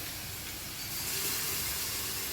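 Garlic hits hot oil with a soft, steady sizzle, a faint broadband hiss that swells slightly partway through and holds without any voices.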